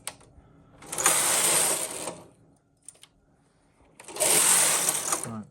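A Knitmaster Silver Reed chunky knitting machine knits tuck stitch rows: two loud, rushing mechanical carriage passes of about a second each, separated by a quiet gap with a couple of small clicks, heard close up.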